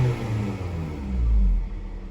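A warmed-up 2009 Toyota Matrix S engine idles with a deep rumble, swells once in a short rev, and then settles back down.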